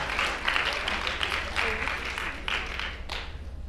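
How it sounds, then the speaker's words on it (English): An audience applauds for a senior introduced on a panel, a continuous spread of many hands clapping at fairly even volume with a low steady hum underneath, no voices standing out. "Izzy, everybody give her a round of applause."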